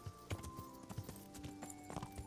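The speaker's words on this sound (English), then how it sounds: "this horse here, is a very well behaved horse" Horse hooves clip-clopping in Kingdom Come: Deliverance, a quiet steady walking rhythm of hoofbeats with no talking.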